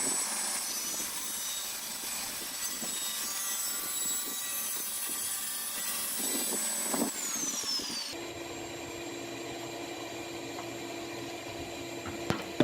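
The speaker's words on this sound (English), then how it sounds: "So now I'm setting up to make the rip cut of the 2x4" A saw rips lengthwise along a wooden 2x4, a steady whining cut lasting several seconds, then the pitch and tone shift as the blade runs on after the cut.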